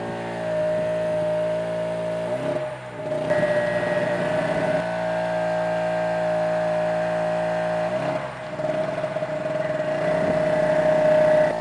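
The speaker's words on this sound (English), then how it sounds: "So that's why the motor's loading and then revving and then loading and then revving." A Harbor Freight TailGator generator engine drones loudly nearby, its tone sagging under load and then revving back up, cycling a couple of times with no talk.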